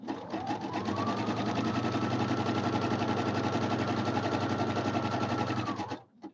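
Sewing machine stitching a throw pillow, a close, steady rapid mechanical chatter running evenly for about six seconds before stopping abruptly, with no talk.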